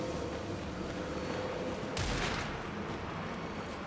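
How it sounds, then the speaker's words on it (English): Gunfire aimed at the player in Alan Wake 2, a short burst of shots about midway through, faint and somewhat distant over a steady background rumble. "They were shooting me."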